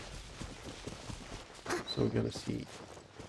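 Horse hooves clip-clopping in the game Genshin Impact; a soft, steady rhythm of hoof steps, faint and close, under a person speaking briefly.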